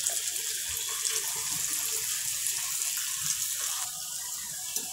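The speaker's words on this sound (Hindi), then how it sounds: "तो इस तरह से एक एक बॉल्स लेते हुए हम ये फ्राई करना शुरू करेंगे।" Veg Manchurian balls sizzle in hot oil, a steady loud hiss and crackle close by, with occasional small pops and a slight shift near the end.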